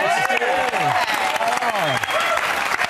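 A live TV studio audience gives a dense round of clapping that carries on loudly for the whole stretch, with a voice speaking over it.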